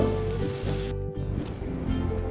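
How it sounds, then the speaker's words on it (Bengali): Boiled banana flower and potatoes fry together in a pan with a steady, moderate sizzle that keeps going throughout, briefly dipping near the middle. "এবার দিয়ে দিচ্ছি মোচা সিদ্ধ"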